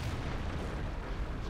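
An allied tank fires into the player's tank from behind in a World War II tank battle video game, giving a dense, continuous rumbling boom with no pause, loud and close.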